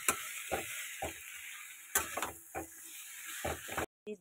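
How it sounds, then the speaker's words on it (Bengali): Taro stolons (kochur loti) are tossed into hot oil with cooked-down spice masala, giving a soft background sizzle broken by several sharp, close bursts of stirring and scraping in the pan. "দিয়ে দিচ্ছে এবার কচুরলতিটা, দিয়ে এটাকে ভালো মতন ভাজা ভাজা করবো।"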